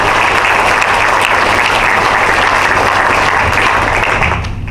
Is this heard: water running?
no